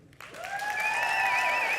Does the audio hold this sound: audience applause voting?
yes